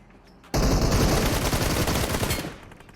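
A sudden loud burst of rapid automatic gunfire erupts in the video game PUBG Mobile, a dense fusillade lasting about two seconds before cutting off, with no talk over it.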